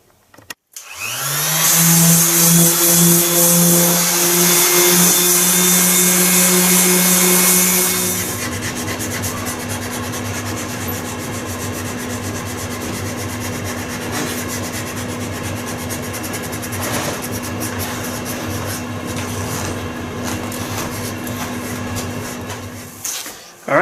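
Power sanding strips varnish from a 1966 Palomino wooden archery bow, a loud steady whirring rasp that runs for about eight seconds, then continues with a lower, rougher grinding tone until it stops.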